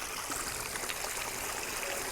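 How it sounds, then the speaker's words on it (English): Water spills steadily over the rocks of a backyard koi pond waterfall, a continuous close splashing trickle that stays even throughout with no voices. "you'll see a lot more water comes over on this side, and this looks a little thinner"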